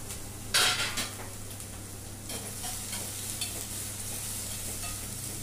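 Onion is added to very hot oil that already holds fried chillies, setting off a loud sharp crackle at first that settles into a steady sizzle with light stirring scrapes, and no one speaks.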